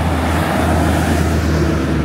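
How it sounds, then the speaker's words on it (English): Loud roadway rumble from a bus and a truck passing close by, a dense, continuous low-frequency drone with broadband noise and no pauses. "and that truck are extremely loud"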